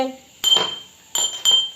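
Three bright clinks of glass ring out in quick succession, close and crisp, after a brief murmur.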